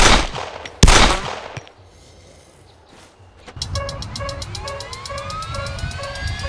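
Gunfire in Arma 3, shooting at enemies to protect a helicopter: one loud, sharp shot, a quieter pause, then a fast, even stream of automatic fire that carries on to the end.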